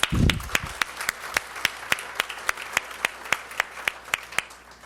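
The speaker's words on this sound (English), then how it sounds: "Let's give them all a round of applause." Sparse applause at a workforce development conference: a few people clap in a steady, spaced-out rhythm of distinct sharp claps, quite close and clear, with a brief low murmur at the very start.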